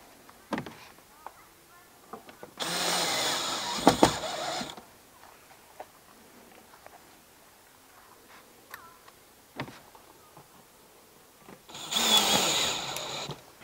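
A power screwdriver twice drives short self-tapping screws with press washers into a facade siding panel, each run a loud whirring burst of about two seconds, with quiet handling clicks and taps in between.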